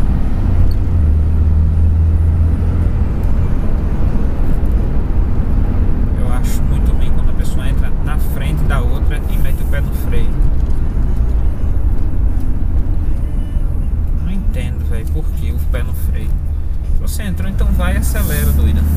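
A Dodge 2500 Cummins diesel truck engine revs and accelerates as a steady low rumble, heard close under continuous talking.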